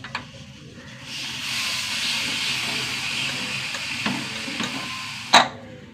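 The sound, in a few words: pressure cooker whistle cooking dal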